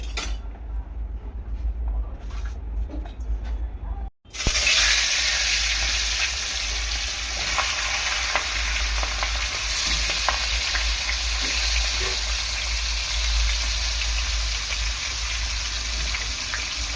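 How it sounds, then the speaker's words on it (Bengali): Fish head frying in hot oil: after a quiet start, a loud, continuous sizzle erupts and holds steady with faint crackles and occasional stirring clinks. "এখন তোমার মাছের মাথাটা ভালো করে ভেজে নেব।"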